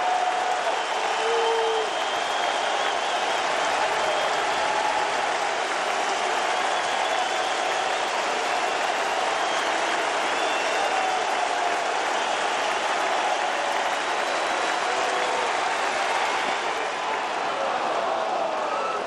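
Sellout baseball crowd at Miller Park rising to its feet and applauding during a Rockies–Brewers game, a steady broad wash of clapping and murmur heard from a distance, sustained without a break.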